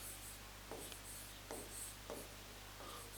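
Chalk scratches out questions on a board during a math lecture, short rhythmic strokes repeating about every half second in a quiet room with steady low hum, no talking.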